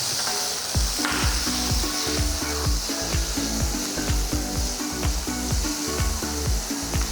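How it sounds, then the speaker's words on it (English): Tomatoes cook in a pan for a Canary Island cilantro soup, giving a steady soft sizzle while a utensil scrapes and stirs in quick repeated strokes, close and fairly quiet, with no talk. "Now we'll add in the tomatoes and cook them till they are soft"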